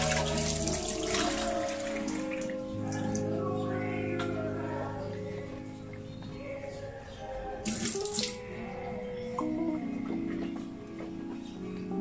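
Water runs from a sink tap while a face is washed, a steady close splashing stream with shifting tones as hands move through the flow, and brief louder splashes midway.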